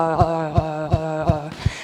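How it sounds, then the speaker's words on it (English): Heels tap on the floor during a standing mobility routine with a yoga block, giving five soft, evenly spaced thumps over a steady tonal hum. "So that noise is coming from my heels tapping."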